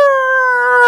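A voice imitates a mad dog's howl: one loud, sustained, steady-pitched howl lasting under a second, heard alone and close up.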